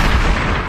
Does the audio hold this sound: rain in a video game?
no